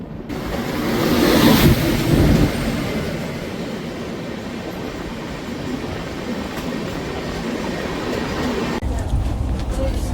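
A passenger train just departed from Ghatshila station rumbles steadily along the tracks with a constant rushing roar, louder at first, then settling into an even clatter.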